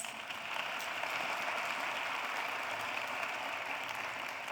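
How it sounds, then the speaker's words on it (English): An audience at a panel discussion gives a steady round of applause, dense clapping heard from a moderate distance throughout. "A round of applause for our panelists."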